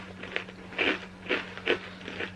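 Crispy, slightly burnt homemade chocolate cookies give five crunchy bites in close succession, each a short, sharp crackle heard up close with no talking.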